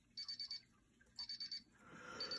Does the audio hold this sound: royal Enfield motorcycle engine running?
no